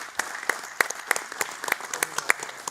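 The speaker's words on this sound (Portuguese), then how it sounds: "Uma salva de palmas." An audience at a Portuguese sports-financing study presentation applauds, a short burst of scattered, fairly sparse claps heard at moderate distance without voices over it.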